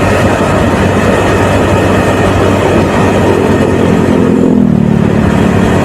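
Motorcycle riding along a canal-side road, a steady loud rumble of engine and wind noise running throughout with a low tone shifting near the end, no talking.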